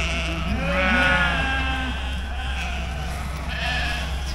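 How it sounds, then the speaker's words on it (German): Several Heidschnucke sheep bleat in wavering calls over a constant low outdoor rumble, one voice close and others overlapping further off. "das sind hier diese ganzen Schafe, die, also diese Heidschnucken"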